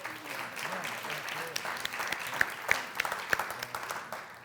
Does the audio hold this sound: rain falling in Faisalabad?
no